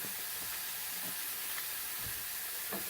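Parsley hitting garlic butter in a hot pan, giving a steady close sizzle and hiss with a few faint pops and light stirring underneath.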